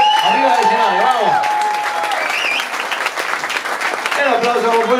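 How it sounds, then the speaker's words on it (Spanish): A concert audience applauds loudly, dense clapping and crowd noise filling the space while someone speaks over it through a microphone, his voice carrying above the steady ovation. "el aplauso muy fuerte. Arriba del escenario, vamos."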